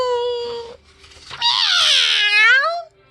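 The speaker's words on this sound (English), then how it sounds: "Meow! Ginger, the farm cat." A cat meows in one long, rising and falling cry after a brief softer call, close and loud with no other sound around it.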